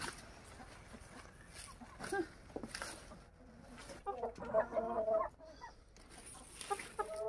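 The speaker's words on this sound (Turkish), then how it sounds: "Bu tavuklar Karadeniz'de. Pancar yemeden duramaz." Chickens cluck and murmur nearby in short bursts while eating beets, with quiet talking and faint background rustle.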